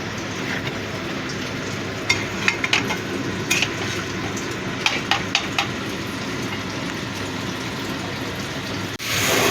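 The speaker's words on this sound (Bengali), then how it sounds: "নিউট্রেলা দিয়েও ভালো করে কষিয়ে নিয়েছি আমি।" Nutrela soya chunks sautéing in a pan give a steady, even frying hiss throughout, with a few light scrapes and taps of a utensil, close and unbroken by speech.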